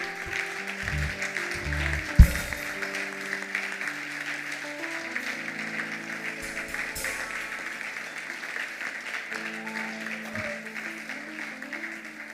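A church congregation at a Sunday worship service applauds steadily, spread through the room, under a sustained organ or keyboard chord. A single sharp clap stands out near the start.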